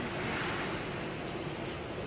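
Ocean waves wash in a continuous, even roar beside a seaside restaurant table in Mauritius, a broad steady surf with a faint whistle of wind and no talking.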